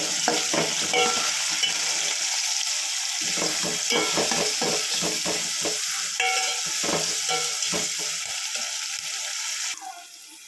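Onions frying with salt and curry leaves for a country chicken curry, a steady loud sizzle broken by repeated scraping and stirring strokes throughout, with no talking.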